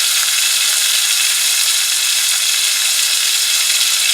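A steak sizzles loudly and steadily in a hot pan as it is flipped, the hiss continuous and close with no pauses or voices.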